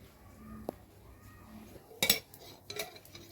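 A metal chapati pan is set down on a kitchen stove while aloo paratha is being made. A few sharp metallic clanks and clinks ring out close by, separated by quiet pauses.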